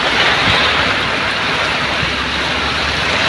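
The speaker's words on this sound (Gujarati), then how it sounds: "અચાનક ફૂલ વરસાદ ચાલુ થઈ ગયો છે દોસ્તો" Heavy monsoon rain with wind, a loud, unbroken roaring wash of noise with a deep rumble underneath, continuous and close throughout with no voices.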